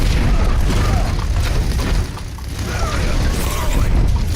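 Mechanical clicks and clacks of a weapon being reloaded in the Overwatch video game, set within a dense, continuous wash of loud battle noise and low rumbling.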